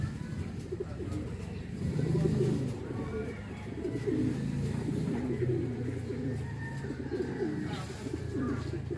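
Pigeons cooing on a rooftop in Gattaran, Cagayan, with continuous low, rolling coos close by and overlapping through the whole stretch, while faint background noise runs underneath.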